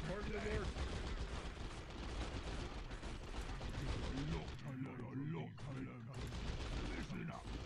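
Bomb squig explosions in the Warhammer 40,000 strategy game Dawn of War (Unification mod, Blood Axes against Necrons), loud dense battle noise with rapid gunfire-like bursts and blasts throughout, voices mixed in.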